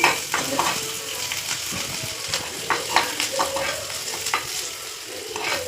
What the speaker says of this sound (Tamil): கடுகு வெங்காயம் கருவேப்பிலை இதில் போட்டு அப்படியே தாளிக்கணும்